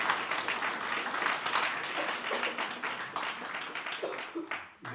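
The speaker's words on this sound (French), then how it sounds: "On peut applaudir, je crois." Audience applause following a French-language lecture on feminism, a dense steady clatter of many hands filling the hall, tapering off at the end.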